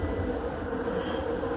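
Steady low rumble and hiss of a metro train running through Kuala Lumpur, a continuous close interior drone with no talk.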